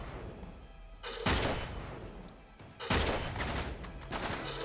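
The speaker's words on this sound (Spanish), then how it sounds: "Le he hecho 3 disparos." Gunfire in the co-op online shooter Uncharted 3, set in Borneo: two or three loud bursts of close shots with sharp attacks, separated by quieter game ambience, with no talk over them.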